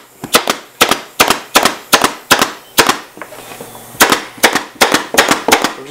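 Pneumatic staple gun driving staples through upholstery fabric along the edge of an adjustable piano bench, a close, sharp run of about fifteen loud clacks in quick bursts with a brief pause midway.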